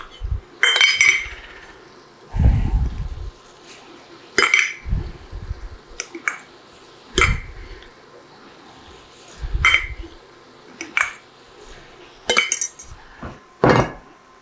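Rice poured into a cooking pot and stirred, with repeated sharp clinks and scrapes of a utensil against the pot at irregular intervals between brief rustling pours, close and fairly loud.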